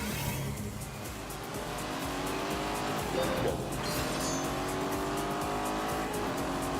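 A Lamborghini with a rear-mounted V8 races around a purpose-built track, its engine note rising through gears with tire squeal and a steady, loud roar.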